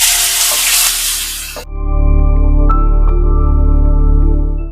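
Chopped onions hit hot oil with whole spices such as cloves, cardamom, mace and star anise, giving a loud, bright sizzle for a moment before it cuts off abruptly into a steady tonal hum.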